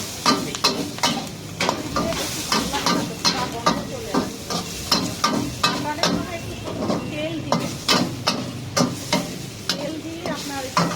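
Onion stir-fried over high heat in a pan for a chicken stir fry: steady sizzling broken by repeated sharp scrapes and clacks of a spatula, close and fairly loud, with no talking.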